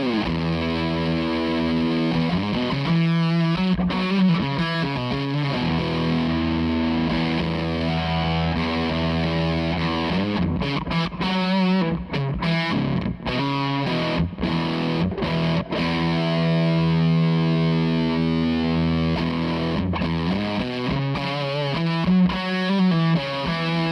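An electric guitar runs through a Zander Circuitry SiClone V3 pedal while its body control is adjusted. Distorted, chorus-like chords and riffs play continuously and loudly for over twenty seconds, with short pauses between phrases and no speech.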